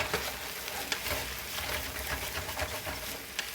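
Pork fried rice sizzling loudly in a hot pan, steady crackling broken by scraping strokes as the stuck bits on the pan bottom are worked loose, up close with no talking.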